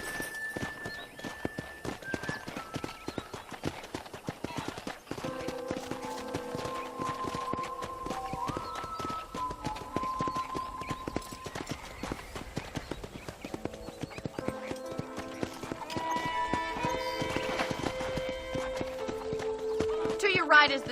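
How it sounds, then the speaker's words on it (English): Horse hooves in Red Dead Redemption, a continuous rhythmic clip-clop of a galloping horse at close range, running under game music and a speaking voice for the whole stretch. "I picked out a fine horse for you. Giddy up!"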